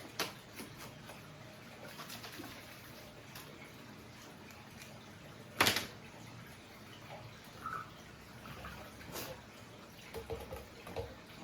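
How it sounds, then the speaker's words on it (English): RO water swished around in a container while rinsing Seachem Purigen resin for a reef aquarium; soft, continuous watery sloshing with one sharper splash partway through. "Get some RO water in the container, swish this around a little bit."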